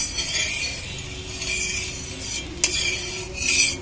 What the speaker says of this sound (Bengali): এবার চাটুর তেলটা আমি ভালো করে চাটুতে চালিয়ে দিচ্ছি